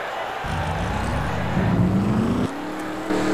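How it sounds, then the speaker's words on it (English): Stock car engines firing up at a NASCAR Nationwide Series race, the Food City 250, rising into a loud layered roar with pitch climbing over the field before one engine drops off and restarts. "we just got the command to start the engines"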